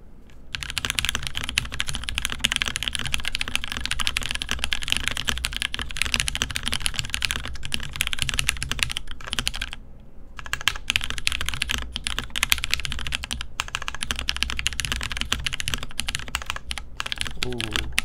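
Fast, continuous clicking of a computer keyboard being typed on, close and loud, with brief pauses near the middle and a person talking over it at times.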